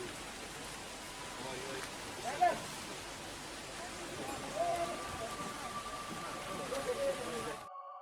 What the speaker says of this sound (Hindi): आज सुबह से बारिश चल रही है।